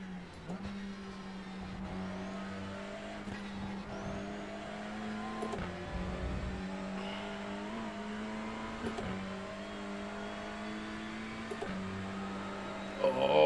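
A touring car engine in the iRacing VR racing game drones loudly and steadily through the whole stretch, its revs dipping and climbing again at a few brief gear changes.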